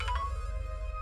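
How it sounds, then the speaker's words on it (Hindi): A phone ringtone plays steadily with sustained melodic tones over a low hum, moderately loud and uninterrupted by talk. "मेरा फोन आ रहा है बेटा।"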